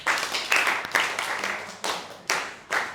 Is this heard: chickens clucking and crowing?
no